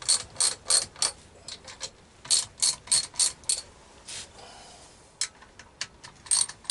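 A ratchet turning the valve adjusters on a Harley-Davidson Sportster motorcycle engine gives repeated bursts of close, crisp clicks, several strokes per burst, separated by short pauses.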